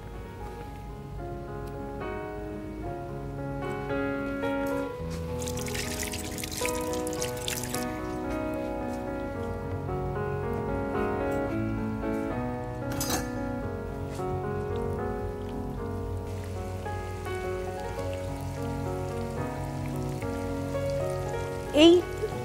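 Fish coated in crumbs frying in hot oil, giving a steady, rain-like sizzle that runs throughout beneath background music.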